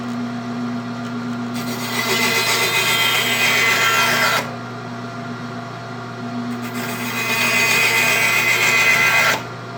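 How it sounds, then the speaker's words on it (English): An old bandsaw slices through wooden pen blanks in two separate cuts, the motor humming steadily while the blade's rough rasping swells over a few seconds each time, close and loud. "Old trusty bandsaw. Start making our cuts."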